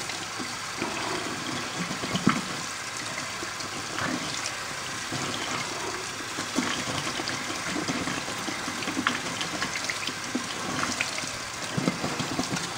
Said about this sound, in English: And then I just run a little water over them.